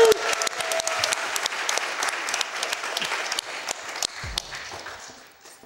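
Audience applause at a speedrun marathon event, a steady dense wash of clapping that fills the whole stretch and tapers slightly near the end, with faint voices mixed underneath.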